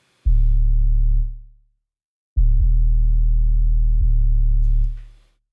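A low synthesized sine-wave tone from a synthesizer sounds twice, a loud steady hum roughly a second long and then a longer held note, each fading out smoothly, alone and without any talking.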